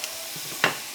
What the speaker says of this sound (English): Then I'll take my spoon, spatula, and kind of like flatten it out